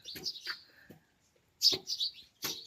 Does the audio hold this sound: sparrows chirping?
yes